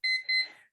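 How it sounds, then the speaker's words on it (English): A timer goes off with two short, high electronic beeps in quick succession, the second trailing away; fairly quiet and alone, with no talking. "oh, there's my timer"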